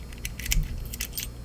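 Metal keys for a Pro Lok EPL 105 AL sliding door lock jangle close up in a few quick clattering bursts, with no speech.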